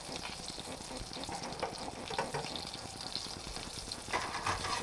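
Bacon bits frying in a hot pan over medium-high heat, a low steady sizzle with light crackling and occasional stirring, fairly quiet and without talk.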